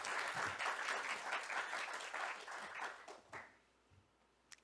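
A congregation at a Sunday church service claps in warm, steady applause that thins out and fades to a few stray claps near the end.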